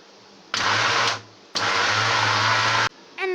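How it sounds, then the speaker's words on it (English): An electric grinder blending a seekh kabab mixture with garam masala, turmeric and fresh coriander, loud and close: a brief run, a pause, then a longer steady whirring burst that stops abruptly before a short restart. "Now we'll grind it."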